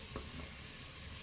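Pork kidney pieces frying in a Cookeo multicooker, with a steady low sizzle and a brief scrape as the meat is turned partway through.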